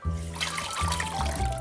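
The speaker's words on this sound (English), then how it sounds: "You strain it into the strainer." Water poured through a kitchen strainer after steeping for several minutes, a steady close trickling and splashing that runs without pause, with no talking.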